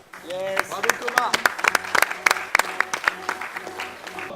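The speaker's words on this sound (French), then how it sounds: "on peut l'applaudir" An audience at a live event claps in uneven bursts, with sharp individual claps and raised voices or cheers mixed in over a moderate crowd bed.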